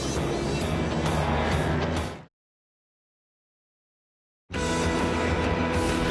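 A 1970 Ford Mustang Trans Am race car roars past loudly at Lime Rock Park, engine blaring, then the sound cuts out to total silence before the full-throttle roar resumes.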